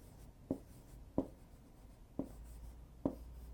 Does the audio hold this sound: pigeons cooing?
no